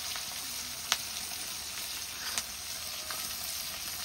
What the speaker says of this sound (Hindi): पानी आखिया माछ भजा चलती